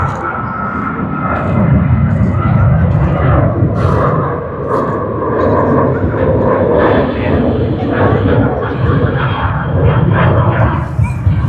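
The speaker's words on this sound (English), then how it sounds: "let us capture the departing aircraft" Loud, continuous roar of a departing aircraft at Sydney Airport, a broad rumbling engine wash that holds steady across the whole stretch with slight swells and no pauses.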